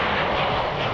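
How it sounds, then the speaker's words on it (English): Republic Airways Brickyard airliner taking off at Indianapolis, a loud, close, continuous engine roar filling a brief moment with no voices. "Here comes Republic Brickyard in Indianapolis, taking off."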